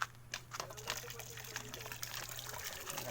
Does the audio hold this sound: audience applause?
no